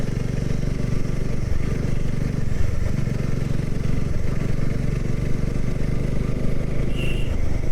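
A motorcycle engine runs steadily on a mountain ride in North Bengal, a loud continuous drone that stays close, with faint insect-like chirps standing out briefly near the end.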